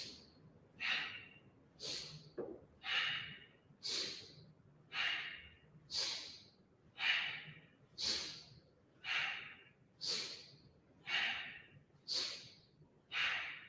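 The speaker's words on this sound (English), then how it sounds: "I'm inhaling through my nose, I'm exhaling through my nose" Yoga breathing through the nose, about a dozen forceful, rhythmic breaths in steady succession, close and fairly loud with airy rushing on each, alone without talk.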